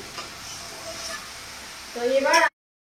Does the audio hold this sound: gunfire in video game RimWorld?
no